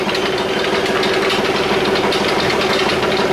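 A farm tractor engine idles steadily close by, a loud, constant mechanical rumble with a faint knocking pulse and no voices over it.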